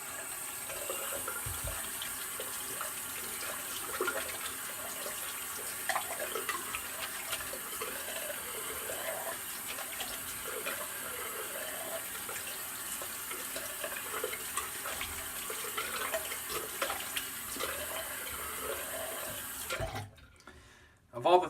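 Water running from a bathroom tap while rinsing off after a shave, a continuous splashing flow with hand movements in the stream, stopping abruptly near the end.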